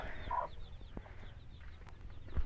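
Soft, low clucking from a mother hen nearby, with faint high chirps of her newly hatched chicks in the background; quiet, outdoor, no talking.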